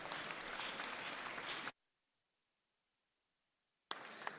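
Applause from a crowd in a Missouri House legislative chamber, dense clapping that cuts out abruptly, a stretch of silence, then clapping again briefly.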